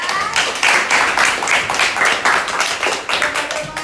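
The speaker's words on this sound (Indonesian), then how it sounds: "beri tepuk tangan buat kalian" A school class claps together in a lively, rhythmic burst of hand claps, loud and close, pulsing in quick waves for a few seconds.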